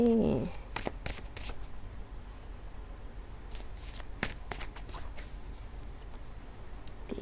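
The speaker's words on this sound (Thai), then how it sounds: "ขอเปิดไพ่ให้หมดก่อน ขอสิบใบนะสำหรับตัวเขาเองเลย" Tarot cards are flipped over and set down one after another, a run of crisp slaps and rustles close by that cluster early, thin out mid-stretch and pick up again near the end.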